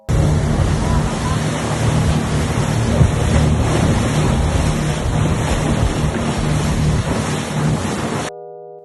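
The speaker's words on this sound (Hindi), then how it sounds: "जैसे ही हमारी फास्ट बोट चली, समुद्र की तेज लहरों ने बोट को जोर जोर से हिलाना शुरू कर दिया." A fast boat pounding across strong sea waves off Nusa Penida, with a loud, steady rush of water and wind buffeting the microphone; the surge continues without pause for about eight seconds, then cuts off abruptly.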